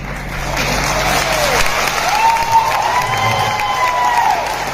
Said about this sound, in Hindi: ये इलाहाबाद वाली तालियां नहीं लग रही है।